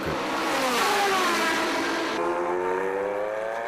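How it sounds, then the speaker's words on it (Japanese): A Porsche race car, number 91, at the 24 Hours of Le Mans in 2005, its engine revving hard and rising in pitch before a sudden shift to a steadier, lower tone; loud, continuous and close. "山岸のドライブするカーナンバー91のポルシェも果敢にアタックを試みる"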